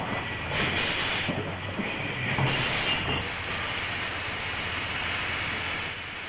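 NSW steam locomotive 32-33 at Armidale releases loud, continuous hissing steam, with brief surges of stronger venting early on before settling into a steady roar.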